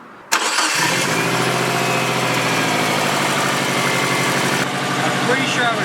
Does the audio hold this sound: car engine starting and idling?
yes